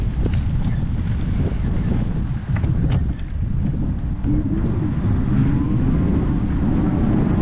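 Strong, steady wind buffeting the microphone on a gusty bicycle ride, a continuous low roar that fills the whole clip with no let-up.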